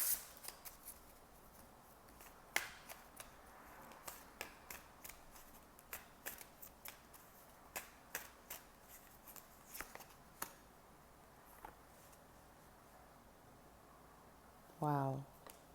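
Tarot cards are shuffled by hand at close range, producing a string of crisp, irregular flicks and snaps, with a brief voice near the end.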